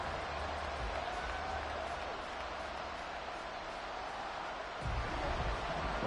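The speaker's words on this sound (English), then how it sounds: "this crowd is making an impact right now" Stadium crowd at a Panthers versus Cowboys football game, a steady broad roar of many voices filling the space, distant and diffuse, swelling slightly louder near the end.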